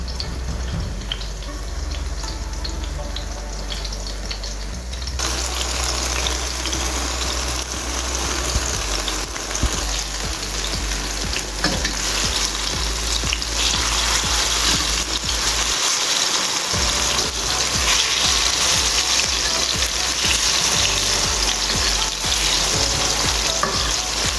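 Jamaican fried dumplings of soaked dough bubble in hot oil with a steady, dense sizzle that holds loud and close throughout, with a few brief crackles and stirring disturbances along the way.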